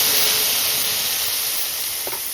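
Spice paste goes into hot oil that was used for frying brinjal and already tempered with nigella seeds, for a mustard-paste pabda fish curry. A loud, steady sizzling hiss holds throughout, with a brief faint clink near the end.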